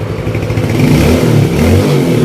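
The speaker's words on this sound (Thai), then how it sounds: "ติดนะเครื่องยนต์ติดแล้ว" A Yamaha Spark 115i motorcycle engine runs close by with a rough, throbbing idle, and the revs rise a little partway through.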